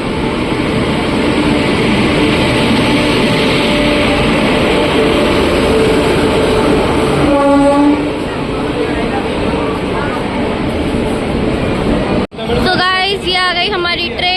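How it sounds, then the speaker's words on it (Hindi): An arriving train rumbles loudly and continuously into an Indian station on the way to Ujjain, with a deep steady roar and clattering, while people chatter nearby. "आ गई हमारी ट्रेन।"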